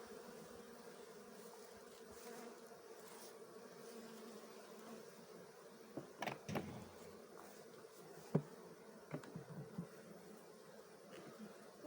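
Soft, steady buzzing of many honeybees close by in a hive in winter at about 10°C, with a few faint knocks and rustles partway through as the hive is shaken.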